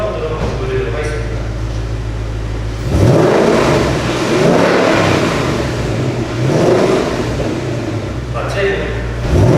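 A 2018 Ford Mustang with the new 5.0 V8 revs in normal mode, a steady idle rumble swelling into a loud, sustained rev before settling back to idle, with no talk over it.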